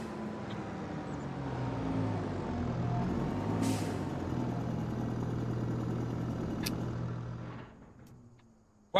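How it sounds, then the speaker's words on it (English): A tractor rumbles at idle in Farming Simulator 25 on a Missouri prairie farm, a steady low engine drone with a brief air-brake hiss midway, then the engine cuts off near the end. "Right, we park this tractor up."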